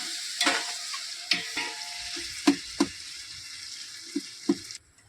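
Tomatoes fry in a pan for a summer chicken biryani, a steady close sizzle broken by several sharp scrapes and knocks of a spoon stirring against the pan.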